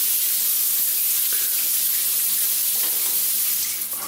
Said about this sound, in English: Everything drains very well.